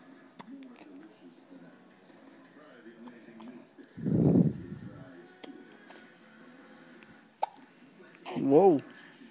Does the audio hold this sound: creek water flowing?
no